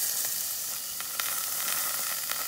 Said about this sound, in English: They're still sizzling away.